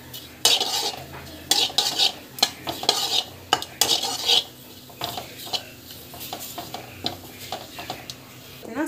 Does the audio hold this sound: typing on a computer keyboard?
no